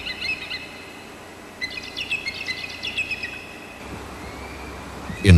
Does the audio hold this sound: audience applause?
no